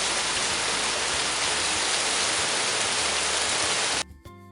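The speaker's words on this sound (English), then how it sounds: "A downpour starts suddenly." Heavy rain pours down in a dense, continuous hiss for about four seconds, then cuts off suddenly.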